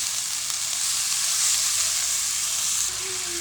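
Minced meat and onions frying in a pan give off a steady, loud sizzle that holds for several seconds with no voices over it.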